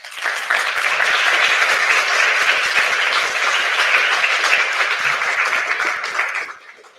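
An audience at a stock exchange listing event gives a sustained round of applause, dense and loud, holding steady for several seconds before trailing off.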